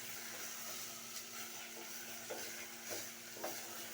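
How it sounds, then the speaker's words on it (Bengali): Curry spiced with turmeric and coriander powder is stirred in a pan, a faint soft sizzle with several light scraping strokes at irregular intervals. "এখন সুন্দর করে নেড়ে চেড়ে নেব।"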